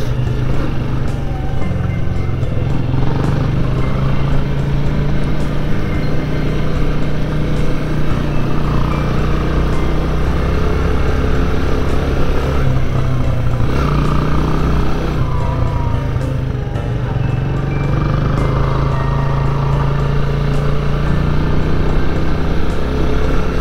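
Yamaha YB125SP motorcycle riding along a muddy, rutted forest road under construction, with a steady, loud engine drone and wind rumble running continuously from start to finish, no talk.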